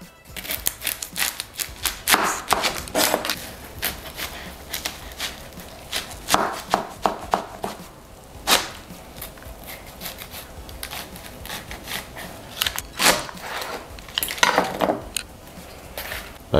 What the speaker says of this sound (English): I'm going to cut it from the center in order to make the bun